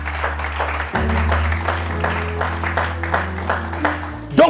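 A church congregation applauds in steady, moderately loud clapping over a sustained organ or keyboard drone, with faint voices underneath.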